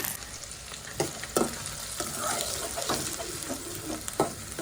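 Onions frying in a pan for Telugu-style chicken fry, a steady close sizzle with a few sharp spoon scrapes and stirring knocks.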